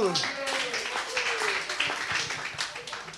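A church congregation claps during a worship service, a dense, steady patter of many hands filling the whole stretch, mixed with voices and shouting.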